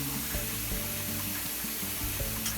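Two tablespoons of butter melting in a pan for a bechamel, foaming and starting to brown, giving a steady close sizzle with a faint hiss throughout.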